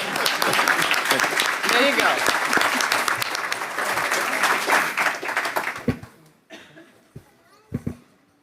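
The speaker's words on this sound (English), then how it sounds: "Can we give them another round of applause," An audience at a school district board meeting gives a round of applause, loud and dense for about six seconds before thinning into scattered claps, with some laughter and voices mixed in.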